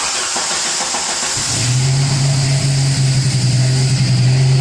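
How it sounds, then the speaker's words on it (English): A Jeep engine cranks briefly and then catches, settling into a steady, loud running idle during a fuel pressure test on a sputtering engine. "We're going to crank up the Jeep and read pressure on this."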